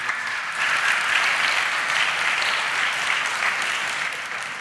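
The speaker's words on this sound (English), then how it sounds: "can I get one more round of applause for both Thomas and Jeroen?" A large audience applauds steadily at a startup pitch competition final, dense sustained clapping for about four and a half seconds with no voices over it.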